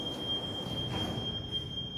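Metro train passing near the water, heard from a water bus in Copenhagen: a sustained high metallic wheel squeal over a rumbling rail roar, steady and fairly loud, with no talk.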